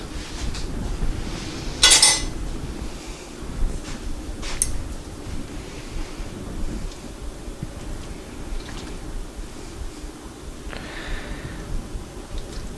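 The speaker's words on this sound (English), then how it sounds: "So I'm going to dish this out a little bit here." A spoon scrapes and clinks against a pot while pasta soup with beans, kale and potatoes is dished out, with sparse, close metallic taps and scrapes spread over quiet kitchen background.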